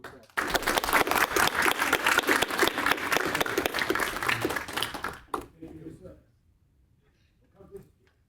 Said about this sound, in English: join me in one more round of applause